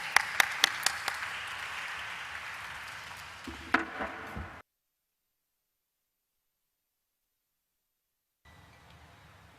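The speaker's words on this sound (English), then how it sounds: "Let's have a huge round of applause for her" Clapping at a corporate stock listing ceremony starts with a few sharp individual claps and swells into steady applause in the room, then cuts off abruptly into silence before faint room noise returns.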